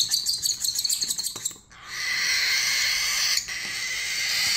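Cockatiel chicks calling during hand-feeding with formula, a dense continuous high-pitched begging chatter, close and fairly loud, briefly pausing midway then resuming, with no talking.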